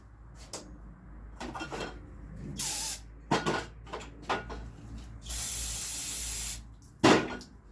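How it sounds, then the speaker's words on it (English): Brake cleaner sprays in short hissing bursts onto valve cover screws from a Kia/Hyundai 2.0L or 2.4L engine, with a few brief blasts, one long steady spray near the end, and small metallic clinks between. "I'm gonna hit them with some brake cleaner and get these cleaned up."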